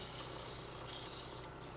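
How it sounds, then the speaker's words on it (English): Quiet, steady rubbing of sandpaper against spinning wood from an old Christmas tree on a lathe, an even continuous abrasive hiss with no breaks. "I ran through the sanding process all over, except for the very top of the tree"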